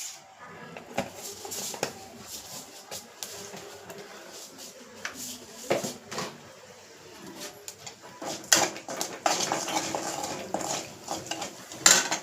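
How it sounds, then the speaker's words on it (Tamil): Mustard seeds spluttering in hot oil in a pan, a steady crackle of small pops with the clink of a utensil and a voice speaking now and then. "கடுகு நல்லா பொரிஞ்சு வரட்டும்."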